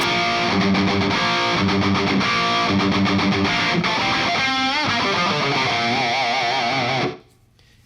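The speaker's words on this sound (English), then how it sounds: "I've got some hall reverb to round it all out" Heavily distorted electric guitar through a Helix with hall reverb plays chords and a bending lead line in a spacious reverberant tone, then cuts off abruptly, leaving a fading tail.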